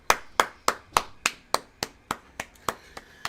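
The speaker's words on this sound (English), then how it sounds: "Let's give a round of applause." Hands clap in a round of applause, about a dozen crisp, evenly spaced claps close to the listener. The claps fade gradually and no one speaks.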